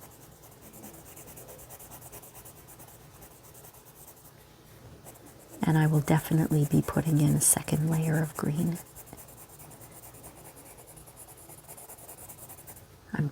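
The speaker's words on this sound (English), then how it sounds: "I'm going to color in the stem and the two leaves with my green" Green colored pencil scratching and rubbing lightly over paper while coloring a flower's stem and leaves, a soft steady scribble under a person's quiet talking that runs through the middle.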